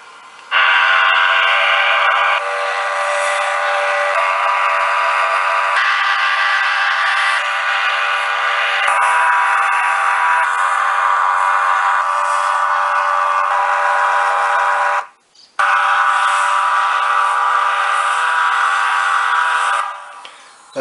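A small speaker in a model train sound decoder plays loud, sustained train whistle and horn blasts that change pitch in steps, with one brief gap near the end and no talking.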